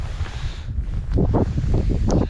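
Gusty wind buffets the microphone during early-spring fishing for crucian carp, a low roaring rumble that swells stronger in the second half.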